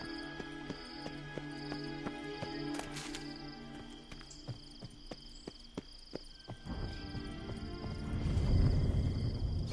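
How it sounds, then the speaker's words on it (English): Horse hooves clip-clopping in a video game, a steady run of close, even hoofbeats that builds into a louder rumble of movement toward the end, with no talk. "Será que o meu cavalo chega aqui?"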